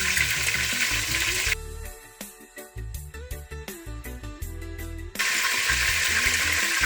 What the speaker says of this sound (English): because I want a nice color, that's why I'm browning them up a little bit